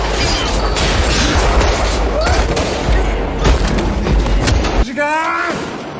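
Rapid bursts of gunfire and booming impacts ring out in a heated film gunfight between police and a gang, loud and close, with a voice talking over the shooting throughout.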